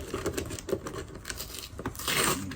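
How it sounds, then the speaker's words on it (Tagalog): Rain patters steadily and fairly close, a dense broadband wash that swells louder toward the end, with no talk over it. "Para may ulan na naman."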